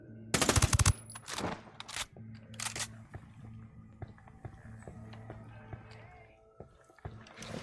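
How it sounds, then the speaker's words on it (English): A gun turret fires a loud, rapid machine-gun burst in Ghost Recon Wildlands, followed by scattered sharp shots and clicks against a low game hum. "Enemy spotted. Gun turret."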